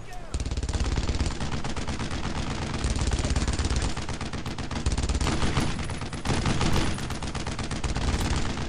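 Dense, continuous automatic gunfire and explosions in the World War II shooter game Brothers in Arms: Road to Hill 30, loud and unbroken for several seconds.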